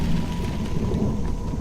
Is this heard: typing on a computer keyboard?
no